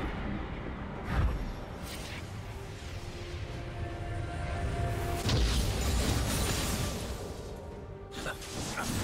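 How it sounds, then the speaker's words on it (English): Tower destruction in League of Legends, a layered booming explosion with whooshing debris over dense game ambience, with sharp bursts near the start and midway. "Red team's turret has been destroyed."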